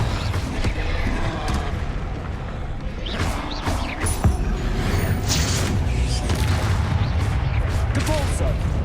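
Confringo fire-blast spell cast in combat in Hogwarts Legacy, with booming explosive bursts and crashes in a steady stream of battle noise, a voice speaking over the action.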